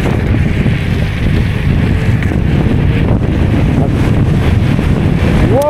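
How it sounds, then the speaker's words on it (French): Strong wind roaring across the microphone while riding a Kukirin G2 Master electric scooter outdoors, a loud, continuous buffeting rumble with gusty fluctuations and no speech. "Il y a trop de vent."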